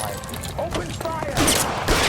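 Gunfire erupts in the L.A. Noire video game during a car chase, loud bursts of shots over a steady engine roar, with voices shouting in between.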